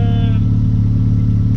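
Drag racing car engine idling loud and steady during a heat cycle at a test day, with a constant deep low rumble and no revving through the short stretch.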